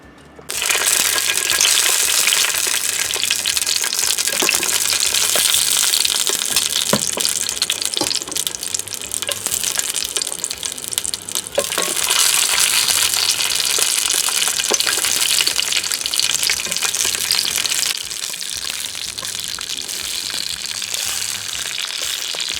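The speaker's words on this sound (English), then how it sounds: "we are going to get our skillet scorching hot, and we are going to char these babies" Jimmy Nardello peppers char in a scorching-hot skillet outdoors, giving off a loud, continuous rushing hiss with scattered crackles that holds steady for the whole stretch, with no voices.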